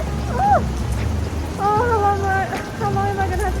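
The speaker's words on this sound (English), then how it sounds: "why is it raining so hard right now?" Heavy rain pours steadily and close by on a rainy day in Busan or Ulsan, a dense constant wash with a low rumble beneath, while tonal chirps or squeaky voices cut in and out above it.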